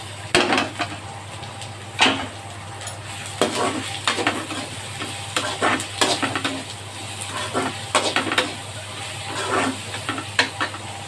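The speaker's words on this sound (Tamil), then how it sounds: "வெங்காயம் தக்காளி நல்லா வதங்கிச்சு" Vegetables sizzle in a hot pan while a spoon stirs and scrapes repeatedly, with clinks of utensil against metal at irregular intervals.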